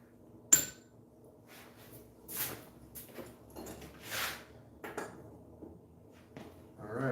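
A hammer strikes metal while forging a Viking arm ring: one sharp ringing blow, then several softer, irregularly spaced hits and clinks in a quiet workshop.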